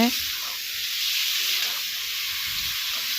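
Potatoes and spices frying in a pan for a catla fish curry give a steady close hiss and sizzle, continuous and even throughout with faint stirring underneath.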